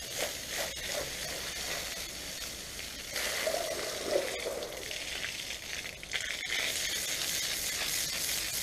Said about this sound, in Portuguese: A aguinha está a sair quentinha.